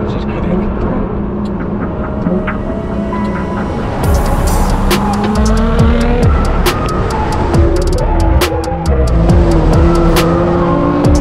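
A hard-accelerating Nissan GT-R running 1.2 bar of boost, its engine roaring loud and close as revs climb, with bursts of tire squeal from the rear wheels and a voice talking over it.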